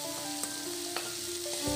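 Veg pasta with carrot and mayonnaise being mixed in a pan: a faint, steady sizzle with a few soft scraping ticks from the utensil over a low hum, with no voices.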